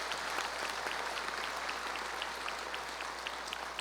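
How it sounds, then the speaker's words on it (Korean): Church congregation gives steady, moderately distant applause, an even wash of many hands clapping at a pastor's request, ending with a brief voice at the very end. "박수 한번 해주세요."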